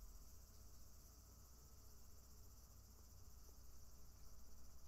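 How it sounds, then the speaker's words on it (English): Cicadas and insects chirping steadily on a quiet night in a rural Japanese setting in the horror game The Walk, a faint continuous high-pitched drone with no talk. "Cicada's perfectly on point"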